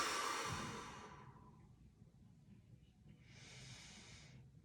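Slow breathing while holding a deep neck stretch with the chin turned over the shoulder: a fairly close, soft hissing exhale fades out, then after a short pause a quieter airy breath follows.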